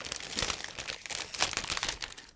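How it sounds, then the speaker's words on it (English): A plastic bag holding parts of a 1/48 scale ICM Gotha Go 242B model kit is opened, crinkling and rustling continuously at close range and low volume. "Now I'm opening another plastic bag"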